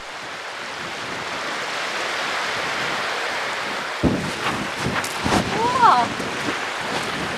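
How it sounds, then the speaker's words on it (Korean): Waves wash onto a sandy beach in spring, a steady broad surf roar with gusting wind buffeting the microphone, while a person briefly exclaims over it. "모래와 파도가 만들어내는 소리 역시 일품입니다"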